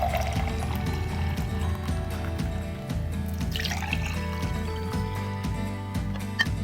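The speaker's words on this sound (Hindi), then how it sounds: "और अब इसके अंदर जूस डालते हैं।" Carrot and orange juice being poured into a glass. A steady liquid trickle and splash runs under background music.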